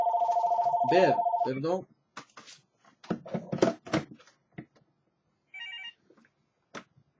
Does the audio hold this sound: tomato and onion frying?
no